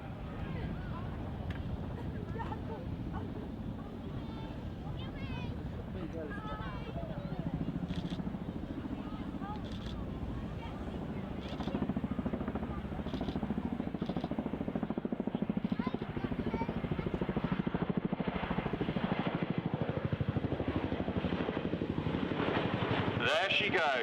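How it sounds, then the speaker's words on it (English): A Chinook twin-rotor helicopter performs a roll demonstration at an RAF Cosford airshow, its deep, steady rotor thump and turbine roar continuing throughout, growing slightly louder midway, with wind buffeting the microphone and talk underneath. "Turn your eyes to the sky for the 2025 Chinook Roll Demonstration."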